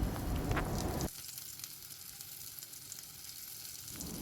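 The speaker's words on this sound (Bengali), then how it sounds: "এদিকে আলুগুলোও আমার লাল লাল করে ভাজা হয়ে গেছে" Potatoes fry in oil in a wok, first with a loud crackling sizzle, then the sound drops to a quieter, hissing simmer before rising slightly again.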